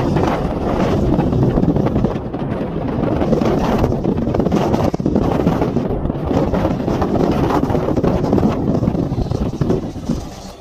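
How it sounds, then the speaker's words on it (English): Strong wind roars and whooshes through an opened car window while driving on a very windy day in Canada, a loud, steady rushing buffeting that fills the whole clip without any speech. "what you're hearing, it's just the wind, because it's very windy, so it's super loud, because we opened the window, so yeah, it's just whooshing"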